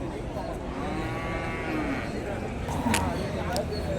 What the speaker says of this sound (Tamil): இந்த கலப்பின மாடுங்க வந்து கிராஸ் மாடுங்க நிறையா வரும்